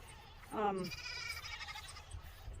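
A single farm dairy goat lets out a wavering, nasal bleat, fairly close and loud, then quieter rustling and faint background noise follow.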